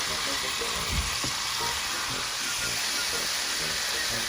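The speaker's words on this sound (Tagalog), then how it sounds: "And now deep fry the fish both sides, and make sure the fish is turned brown and cooked before you turn over." Marinated fish deep frying in hot oil, a loud continuous close sizzle and hiss with small crackles and a brief clatter near the start.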